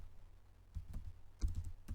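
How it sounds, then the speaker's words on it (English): Keys tapped on a computer keyboard while entering data into a spreadsheet, a few soft clicks in short irregular bursts, close and quiet with no talking. "just keep typing in the next stuff"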